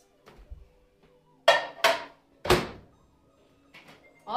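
A microwave door shuts with a few sharp clacks and thuds in a kitchen as a steamer dish goes back in, with brief bumps of cookware around them and no talk.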